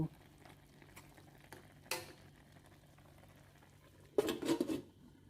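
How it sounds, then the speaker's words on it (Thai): Snakehead fish mok, an Isan-style dish, being stirred in a pot while it bakes over low heat: a few soft scraping stirs, then a louder burst of scraping and bubbling near the end. "ในระหว่างที่เราอบก็ต้องคอยมาหมั่นคนด้วยนะคะ เดี๋ยวจะไหม้ก้นหม้อหรือว่าก้นกระทะเอา"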